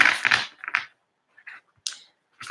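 Tarot cards are shuffled in short, crisp riffling bursts up close, each burst separated by brief silent pauses in an otherwise quiet room.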